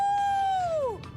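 A person imitates a wolf howl with a single sustained, tonal wail that holds steady and then slides downward before fading out, heard up close and alone.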